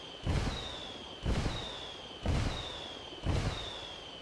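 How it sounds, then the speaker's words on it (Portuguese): Four evenly spaced blasts in a tactical shooter, Ghost Recon Wildlands, each a sharp boom with a rumbling tail, roughly one per second, moderately distant and fairly faint. "os alvos ouviram a explosão"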